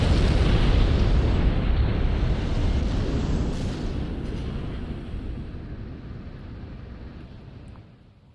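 A huge mothership explodes in the video game Armored Core VI, a loud, dense roaring blast that rumbles continuously and slowly fades over about eight seconds before cutting off.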